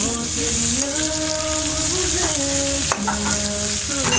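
Capsicum frying for a chicken samosa filling, a steady sizzle with stirring scrapes running the whole time, close and fairly loud under background music.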